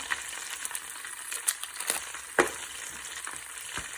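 Tomato puree with all-purpose seasoning frying in a pot for jollof rice gives a soft, steady sizzle with occasional stirring clicks and scrapes, fairly quiet and close, no voices.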